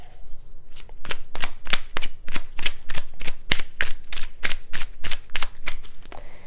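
A deck of tarot cards is shuffled in a quick, regular series of crisp snapping riffles, close and fairly loud, with no voices.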